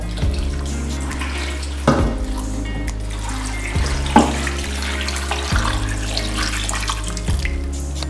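Steady tap water pours into a pot for a hibiscus drink, a continuous splashing rush with a few brief clunks, no voices.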